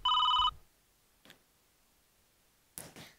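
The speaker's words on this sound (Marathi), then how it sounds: "अरे नलू मावशीचा फोन आहे" A telephone rings once in a short loud burst at the start, followed by quiet room tone with a couple of brief faint knocks and rustles.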